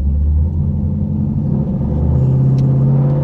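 A car engine rumbles loud and close, its deep drone rising in pitch as it revs up, with tires spinning under test.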